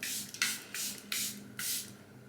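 Makeup setting spray misted onto the face in four quick, soft hissing bursts, close and fairly quiet, separated by brief pauses.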